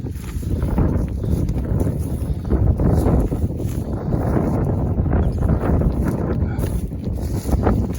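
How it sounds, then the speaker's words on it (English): Strong, cold winter wind roars and buffets across the microphone outdoors in a snowy setting, a loud, continuous rumbling gusting with no talking. "that wind is wicked"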